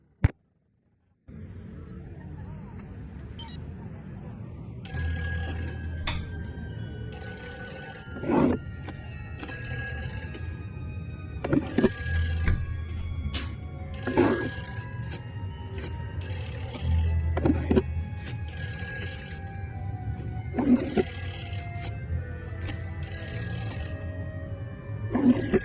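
Telephone ringing in Nancy Drew: The Phantom of Venice, a rooftop scene: loud, bright repeated rings in regular bursts, roughly ten of them, with low thuds between some rings.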